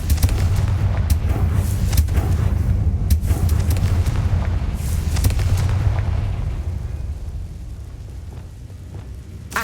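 Confringo fire spells blast in Hogwarts Legacy, a loud rumbling run of booming impacts with sharp cracks for about six seconds, then fading to a softer roar.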